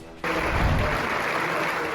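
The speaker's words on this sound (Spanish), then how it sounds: "En medio de aplausos y pañuelos blancos, el Congreso de la República se despidió del senador Miguel Uribe Turbay" Sustained applause fills a chamber of Congress during funeral honors for a senator, a dense steady wash of many clapping hands that starts abruptly and stays loud throughout.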